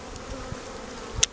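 Honeybees buzz from an open hive box during a spring feeder change, a steady low hum filling the moment, with a brief sharp click near the end.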